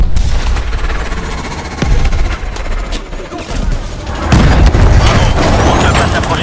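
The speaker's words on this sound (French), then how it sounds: "On ne peut pas s'approcher de cette explosion." Explosions and gunfire in the video game Call of Duty: Advanced Warfare: loud, dense battle noise with sustained automatic fire, heavy booms and a rumbling blast that swells near the end.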